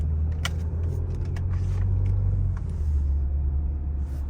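ST car engine lugging at low revs in second gear, a deep, steady rumble heard from inside the cabin with a few faint clicks over it.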